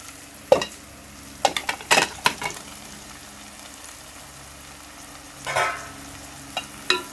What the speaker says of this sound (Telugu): ఓన్లీ అల్లం వెల్లుల్లి పేస్ట్తోనే నేను ఫ్రై చేస్తున్నాను.